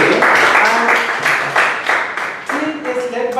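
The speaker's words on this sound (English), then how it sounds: "Let's have a round of applause for the proposal team." Audience at a Toastmasters club debate meeting applauding the proposal team, a steady wash of hand claps lasting a few seconds with voices audible over and through it.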